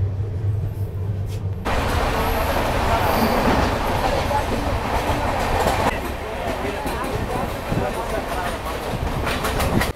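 Darjeeling Mail, a fully electrified passenger train, running on rails: after a quieter opening moment, a loud, steady rumble of wheels and carriages with rattling clatter sets in close by and continues throughout.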